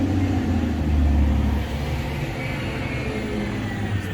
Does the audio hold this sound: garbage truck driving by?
yes